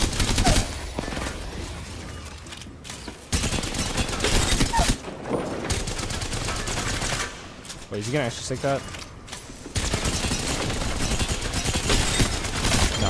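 Rapid bursts of Havoc energy rifle fire fitted with a Turbocharger in Apex Legends crackle in long sustained volleys, broken by short pauses, while a player talks over the shooting.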